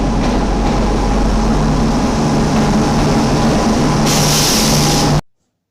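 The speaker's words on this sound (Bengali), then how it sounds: "এই দেখতে পাচ্ছ আমাদের কিন্তু ট্রেন চলে এসেছে" Train pulling into a station platform, heard as a loud, continuous low rumble of engine and rolling wagons, with a brighter hiss joining near the end before the sound cuts off abruptly.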